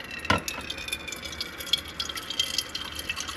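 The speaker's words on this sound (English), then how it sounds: "what you're gonna see is a bunch of water come out" Water from an LG refrigerator ice maker splashes and drips in a brief trickling run, near and fairly quiet, with a sharper splash at the start.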